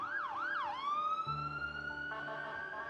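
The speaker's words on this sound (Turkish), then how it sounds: "Hastaneler dolup taşarken siren sesleri hiç susmadı." A wailing emergency siren rises and falls, then settles into a long steady tone as another horn-like siren joins, moderately distant with traffic rumble beneath.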